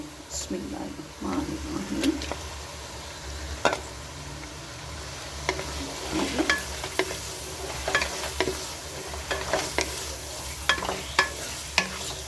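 Chicken fries in a pot of Afghani pulao, sizzling steadily while a spoon scrapes and clinks as it is stirred at irregular moments, with a voice speaking over it.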